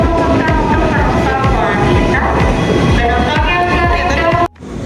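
A commuter train runs from Sudimara toward Tanah Abang station. Steady loud rumble and rhythmic rail clatter fill the ride, with a brief dropout near the end.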